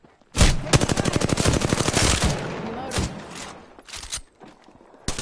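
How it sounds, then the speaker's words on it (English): Rapid automatic gunfire in the Apex Legends video game, a dense burst of close, loud shots for about two seconds, then a few scattered shorter volleys. "Opening fire on the enemy."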